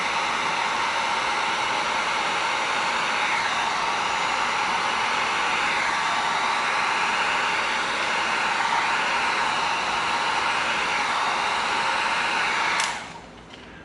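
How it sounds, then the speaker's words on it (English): A heat gun blows hot air onto EVA foam in a steady, loud, continuous whooshing roar, cutting off abruptly near the end. "Now we're going to get our heat gun going."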